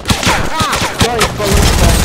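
Rapid gunfire in a video game, dense crackling bursts heard close and loud, with a person talking over the shooting.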